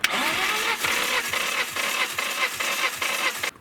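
A Nissan S13's CA18 engine cranks over on the starter during a compression test, a close, loud, rhythmic churning of repeated compression strokes for several seconds that cuts off abruptly at the end.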